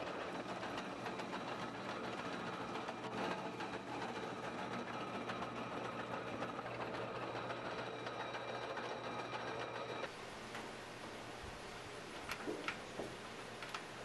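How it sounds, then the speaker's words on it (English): A Clipper No.6 seed cleaner with a fan and screens for corn, soybeans, wheat and oats runs steadily, giving a continuous close mechanical rumble and rattle with a faint ticking rhythm that drops a little in level near the end. "This seed cleaner will run 60 to 70 bushels per hour"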